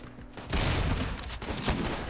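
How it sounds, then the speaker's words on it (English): Colonists in the video game RimWorld open fire, with a dense burst of rapid gunshots starting abruptly and continuing loudly to the end. "I'm gonna have all of you spread out and fire and fight back."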